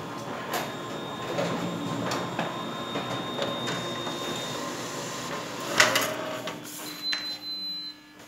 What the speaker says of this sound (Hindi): यहाँ पे स्टार्ट बटन में स्टार्ट दिया और देख लेते हैं आपका यहाँ पे किस तरीके का फोटोकॉपी बनता है।